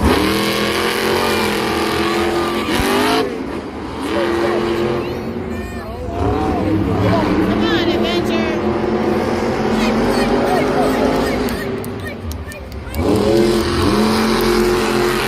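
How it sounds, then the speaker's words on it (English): Monster Jam trucks from Team Scream race head-to-head at an arena show in Denver, their engines roaring and revving hard in loud sustained bursts that dip and surge again, while a commentator talks over the noise. "we have Brad Allen taking on Jim Kohler, the two Team Scream trucks going head-to-head here in the first round of racing."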